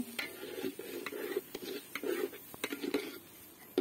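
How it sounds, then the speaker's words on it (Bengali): Rice being sautéed in a pot for Bengali bhuna khichuri, with a spatula scraping and stirring in steady strokes over a soft sizzle, close by and without speech. "চালটা হচ্ছে কষাই নিতেছি বউখোদা রান্না করার জন্য"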